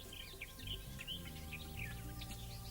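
Birds sing and chirp in the Kauwberg green space, a busy scatter of high, quick calls layered over a steady, low, droning musical backdrop throughout.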